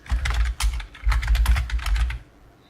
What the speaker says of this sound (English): let's select the type tool and let's type in some text.